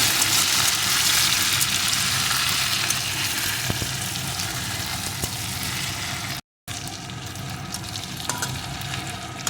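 Spices fry with potatoes, crushed ginger and green chili for moong dal khichdi, making a dense, loud, continuous sizzle close by, with occasional stirring taps and a momentary dropout.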